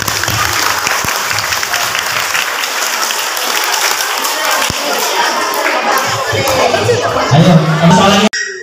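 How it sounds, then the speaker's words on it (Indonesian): Children at an Islamic children's competition break into loud, sustained applause, dense clapping filling the room and swelling near the end before cutting off abruptly. "Bagus, tepuk tangan."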